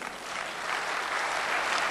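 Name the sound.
audience applause at a Hindi poetry recital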